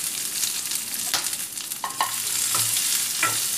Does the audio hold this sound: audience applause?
no